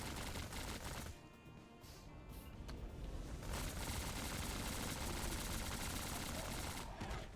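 A melee gun firing in the Limitless x Recoded Maya video game, a dense, loud, continuous barrage of crackling impacts and rapid shots, briefly dipping before resuming steadily.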